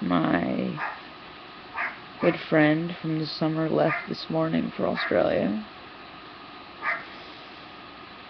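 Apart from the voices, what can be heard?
dogs barking and whimpering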